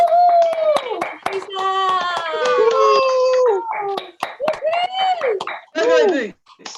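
A group on a video call cheers over their microphones with clapping, whoops and howling voices that overlap loudly, and bursts of applause come through in uneven waves.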